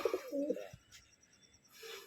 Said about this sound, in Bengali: একদম জাম্বো সাইজের মেল দেখে নাও পায়রা